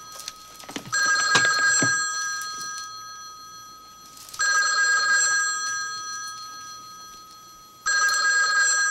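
A landline telephone in the film Mixed Nuts rings loudly in three long electronic bursts separated by pauses, with a few brief knocks and clatters before the first ring.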